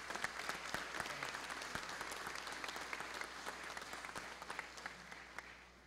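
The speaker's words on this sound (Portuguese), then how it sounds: "o conselheiro Marcos Junqueira de Oliveira, são esses os três membros do Conselho Fiscal a que eu peço uma salva de palmas" Audience at a formal solemn session applauding council members, a sustained burst of many hands clapping that fills the room and tapers slightly toward the end.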